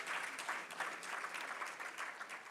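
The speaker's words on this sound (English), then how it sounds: "So a round of applause for each and every single one of you." Delegates at a construction law conference in Africa give a steady round of applause, a dense patter of many hands clapping at an even, moderate distance, fairly quiet overall and with no speech on top.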